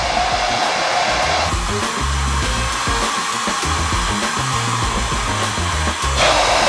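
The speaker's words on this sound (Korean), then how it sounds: "드라이기로" A hair dryer blows loudly and steadily throughout, its roaring airflow shifting in pitch partway through as the setting or angle changes.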